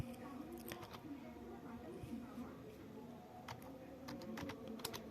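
Someone types on a computer keyboard into a web browser's address bar: rapid, uneven bursts of close keystroke clicks over a quiet room background.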